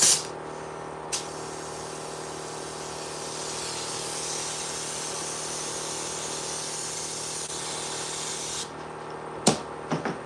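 A steady hiss of a spray gun spraying lowrider-style candy paint over metal flake, continuous for several seconds, with short clicks at the start and end.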